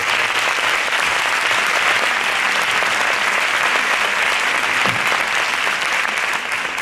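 Sustained, dense audience applause fills the room at an award ceremony, loud and steady throughout with no voices standing out above it.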